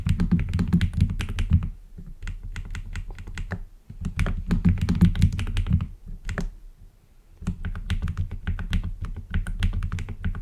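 Rapid, close-up tapping on a computer keyboard in an ASMR setting, dense bursts of clicky keystrokes broken by short pauses, loud and crisp with no voice.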